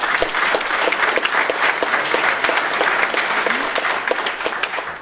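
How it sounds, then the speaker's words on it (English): Steady, dense applause fills the room at a Westlake Hall of Fame dinner as the crowd honours the boosters, continuous and fairly loud throughout with no talk over it. "round of applause for the boosters"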